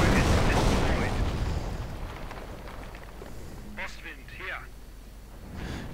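Rockets fire in a real-time strategy war game as a loud rumbling barrage that fades into scattered distant blasts. A commentator talks over the fire.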